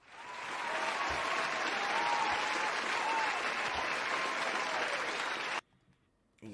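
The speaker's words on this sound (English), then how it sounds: "Let's give them a round of applause." A large crowd at an NFL team event applauds steadily for several seconds, then the clapping cuts off abruptly into near silence.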